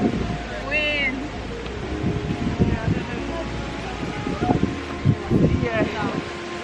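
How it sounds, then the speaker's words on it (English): Wind gusting on the pebble shore of Lake Como, a steady low rush and buffeting across the microphone, with footsteps crunching on stones and a few quiet vocal sounds. "Wind."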